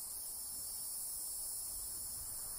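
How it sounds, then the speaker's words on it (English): Cicadas in the video game Lost Odyssey give a steady, high, unbroken insect drone that sits alone over faint low ambience for the whole stretch. "The cicadas cry without ceasing"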